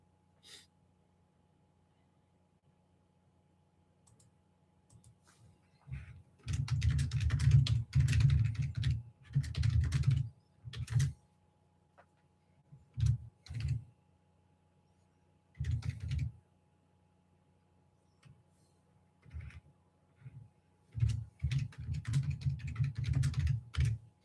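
Someone types on a computer keyboard in clustered bursts of rapid key clicks, separated by short pauses, over about twenty seconds in a quiet room.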